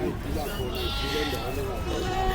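Sheep bleat in drawn-out, wavering calls amid a noisy barnyard, with people talking nearby.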